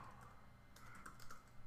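Typing on a computer keyboard while writing a Python plugin command: soft, close, quick key clicks in an irregular flurry, faint and unaccompanied by speech.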